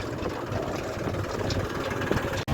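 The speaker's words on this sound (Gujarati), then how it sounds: "જો કાંઈ તો ટ્રેક્ટર પાછું મારે છે જો" A tractor engine runs while reversing, a steady low rumbling drone heard close and continuous, with a brief dropout near the end.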